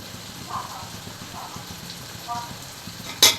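Onions sautéing in a pan for chicken biryani give a soft, steady sizzle and crackle. A sharp utensil clatter comes near the end, and a voice is faintly present.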